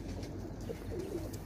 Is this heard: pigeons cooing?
yes